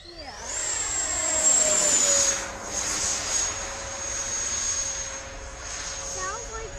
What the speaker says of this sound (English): It sounds like a real turbine.